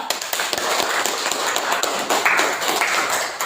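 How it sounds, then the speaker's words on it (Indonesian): A classroom group claps for a presenting group during a teacher training session, brisk scattered handclaps close by with a few sharper taps, steady throughout. "tepuk tangan dulu untuk kelompok 4"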